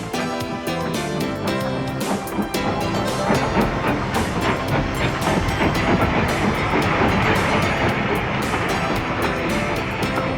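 A steam train climbs toward Oakworth Station and passes close by, a loud, continuous wash of rumbling, clattering wheels and hissing that swells slightly as it goes, with no voices.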